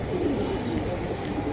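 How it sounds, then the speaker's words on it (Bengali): A Rabbani racing pigeon, kept as a fancy breed, coos low and continuously close by against a dense, steady background murmur, with no clear pauses. "এটা রব্বানি কবুতর"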